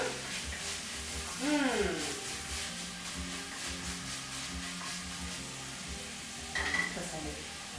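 Chopped celery sizzling and frying in a cocotte of white bean soup, a steady low crackle under a person talking, with brief stirring scrapes.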